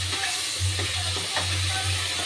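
Spice paste sautéing in a pan with a splash of water, a steady close sizzle with soft stirring scrapes throughout and no talk.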